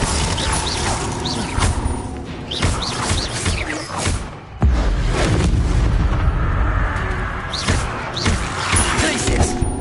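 A Confringo blasting spell explodes in a Harry Potter video game, giving heavy booming thuds and slam-like hits over a dense, busy background of game effects.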